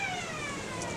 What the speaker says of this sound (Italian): Meno male che si è spenta la sirena.